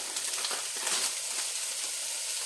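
Ground meat with onion soup mix sizzling in a pan after the fat has been drained, a steady close hiss and crackle that stays even and moderately quiet, with no talking.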